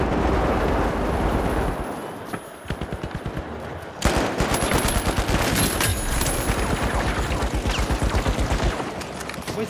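Sustained automatic gunfire in the shooter game The Finals: rapid, loud, close bursts of shots that pause briefly, then resume in a long dense volley amid a noisy combat backdrop.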